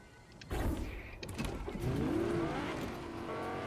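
Vehicle engine revving and rising in pitch as it races along at speed in Fortnite at Chonker Speedway, steady and fairly close, with game sounds mixed in and no talk.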